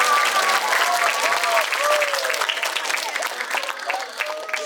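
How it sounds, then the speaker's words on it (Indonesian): Audience at a fourth-anniversary stage event for Share Edu Indonesia applauds steadily, a thick crowd clapping with cheering voices and tonal whoops rising over it, fading slightly toward the end. "Tepuk tangan."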